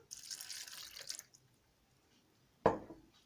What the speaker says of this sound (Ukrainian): лию тепленьке молоко